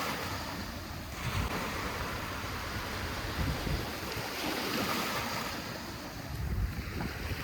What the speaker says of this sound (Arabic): شوفوا الأمواج جت حلوة تيجي هذا.